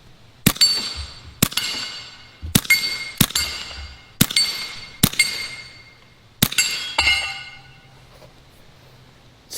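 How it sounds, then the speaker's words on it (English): Clay or ceramic plates shot with a Bintac T9 gun, several sharp cracks each followed by clinking, tinkling shards, spaced a second or so apart outdoors. "let's break some plates"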